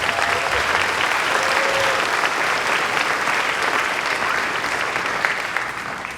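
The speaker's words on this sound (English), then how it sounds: "can we give Mrs. Arbella one more round of applause?" Sustained audience applause at an elementary school spring concert, dense and steady for several seconds before easing slightly at the end, with no talk over it.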